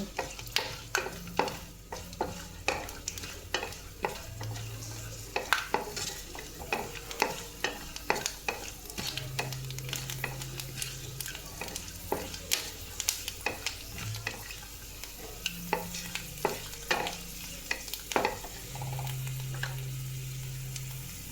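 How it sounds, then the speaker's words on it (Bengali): Peanuts fry in hot oil with cumin seeds as a spatula stirs them, producing a soft background sizzle broken by frequent sharp scraping clicks against the pan. There is no talking. "বাদামটা ভাজা হলে আমি তুলে নেব।"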